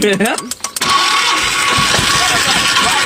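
An engine cranks briefly and catches, then settles into a loud, steady running rumble close by, with voices talking over it.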